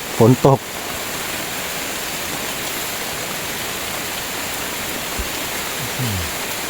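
Rain pours steadily onto a forest treetop hide, a dense unbroken hiss that holds even throughout, with a brief voice at the very start and faint low sounds near the end.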